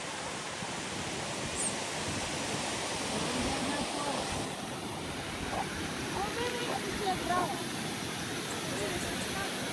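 Steady broadband rushing of a waterfall in the Mahabaleshwar hills, a constant roar throughout with faint voices underneath.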